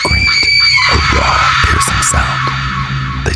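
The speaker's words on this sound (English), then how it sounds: "Then Lacey screamed, a raw, piercing sound." A woman lets out a raw, piercing scream near a forest at night, loud and sustained for several seconds, layered with tense music, a sharp bang and fluttering noise.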